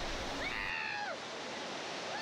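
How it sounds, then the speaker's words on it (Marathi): Padsare waterfall, white and foaming, heard as a soft, even rush of water from a distance, with a brief voice rising over it early on. "पांढरा शुभ्र फेसाळणारा हा पडसरे वॉटरफॉल"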